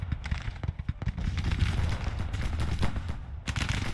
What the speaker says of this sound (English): Blasting them with canister.